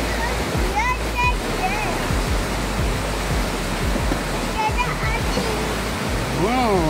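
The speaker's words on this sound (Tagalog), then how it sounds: "Wow, look at the waterfall." Upper Falls waterfall at Johnston Canyon in Banff National Park, Alberta, thundering as a steady broadband roar close by, with people talking and calling out intermittently over the rushing water.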